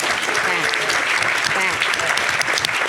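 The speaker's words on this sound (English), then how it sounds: "that's where you're supposed to give them a round of applause" An audience at an education event applauds Dan and his staff, a steady, dense round of clapping that holds evenly for a few seconds while a voice carries on over it.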